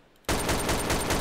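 Gunfire from a gun in Garry's Mod, starting abruptly after a quiet moment and then running as a loud, steady burst of rapid shots to the end.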